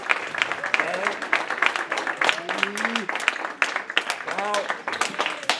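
Audience members clap in uneven bursts for cast members at a Danish theatre performance, the applause mixed with voices talking over it throughout.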